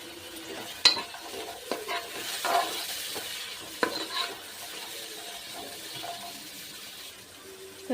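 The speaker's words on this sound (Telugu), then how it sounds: "బీన్స్, మటర్, క్యాప్సికమ్ వేసుకొని ఇవి ఫ్రై చేసుకోవాలి." Beans, peas and capsicum frying in a pan for veg pulao, with a low steady sizzle under intermittent stirring and spoon clinks against the metal, close by and without speech.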